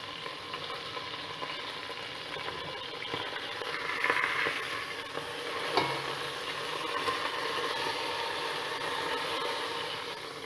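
A beef pot roast sears in a hot pan, with a steady, moderately loud sizzle and crackle running throughout and an occasional clink of utensils.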